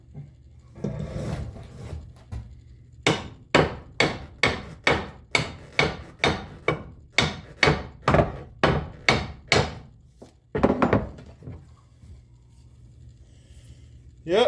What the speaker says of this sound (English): you can also take it and hit the end with your hammer